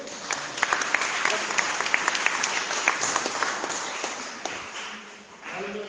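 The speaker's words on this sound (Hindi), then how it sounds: "जोर से ताली बजाइए।" A church congregation claps loudly during worship, a dense wash of applause punctuated by sharp individual claps, tapering slightly near the end.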